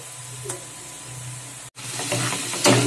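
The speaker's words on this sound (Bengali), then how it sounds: "পেঁয়াজটা আমার প্রায় ভাজা হয়ে এসেছে" Onions frying in a pan for a chicken and potato curry, a steady sizzling hiss with occasional stirring scrapes, broken by a brief cut near the middle before the sizzle returns louder.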